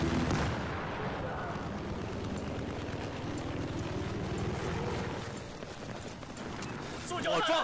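Sniper and other gunfire in Battlefield 4 during a 64-player Conquest Large multiplayer match on PS4, with continuous loud battle noise, shots and vehicle rumble throughout, and talk over the top.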